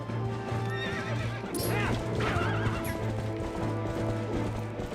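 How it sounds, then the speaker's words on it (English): A horse whinnies loudly over a rhythmic clip-clop of galloping hooves, with steady game-like background tones throughout, in Zelda: Twilight Princess. "I'll give Ganon this, he's better at riding a horse than me."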